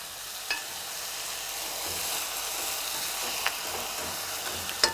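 Onions fry in a pan for a Moldovan dish, a steady soft sizzle with occasional small clicks of stirring, no talk.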